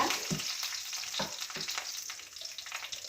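Dried red chillies and curry leaves fry in a hot pan with a steady, close crackling sizzle and occasional scraping stirs, no voices.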